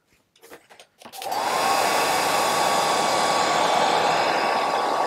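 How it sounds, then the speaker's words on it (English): A hairdryer dries a freshly glued olive sculpin fly at a fly-tying bench, its steady whining blast switching on after a few brief handling noises and then running loud and unbroken. "then I'm going to dry it again using the hairdryer"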